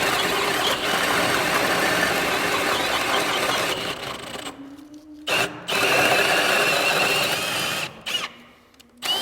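A drill bores a large hole for a pipe during garage interior framing, running with a steady loud grinding whir for several seconds, then stopping and restarting in short bursts.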